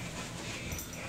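A dog pants and whimpers close by, a brief, breathy, noisy huff with faint whining and no voices.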